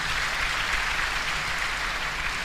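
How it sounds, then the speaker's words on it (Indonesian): Audience applause in an Indonesian talk show hall, a steady, dense wash of clapping that holds evenly throughout, moderately loud and without voices on top. "kita beri aplaus sekali lagi untuk itu"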